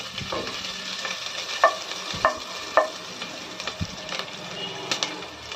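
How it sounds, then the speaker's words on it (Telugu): Sliced onions fry in oil in a pan until browned, a soft continuous sizzle broken by a few sharp scraping clicks from stirring. "ఇప్పుడు ఉల్లిపాయలు మొత్తం కొంచెం బ్రౌన్ కలర్ షేడ్ వచ్చేంత వరకు ఆయిల్లో బాగా ఉడికించుకోవాలండి"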